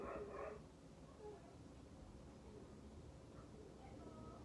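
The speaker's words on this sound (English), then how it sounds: "see if they can get the dogs to stop barking" Several dogs bark somewhere nearby, a short cluster of muffled barks at the start followed by faint, scattered yips under a steady background noise.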